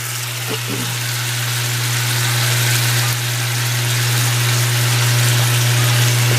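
White wine cooks off in a hot pan with spicy shrimp, producing a loud, steady sizzle and bubbling hiss close by, with a constant low hum underneath and a couple of brief clicks early on.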